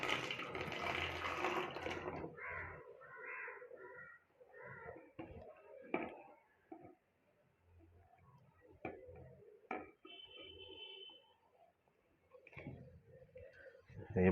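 Water poured into a container to test leak-proof tape: a brief gush of filling liquid at the start, then sparse small taps, clicks and trickles, quiet and close, with no one speaking.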